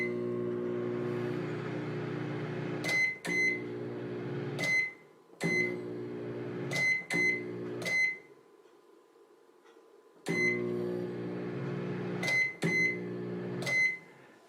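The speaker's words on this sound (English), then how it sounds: "if I start and stop that microwave in rapid succession" A microwave oven hums loudly, switching on and off in rapid succession with sharp clicks and short beeps at each change, and quieter gaps between the runs; its transformer stays warm, so it comes up fast.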